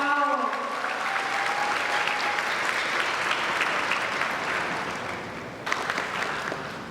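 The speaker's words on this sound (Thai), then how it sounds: "ขอเสียงปรบมือ" Steady audience applause at a formal speaking event in Thailand or Laos, a dense wash of clapping that holds for several seconds and then fades slightly toward the end.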